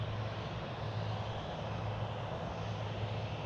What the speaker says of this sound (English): here comes American flight 1415, a 737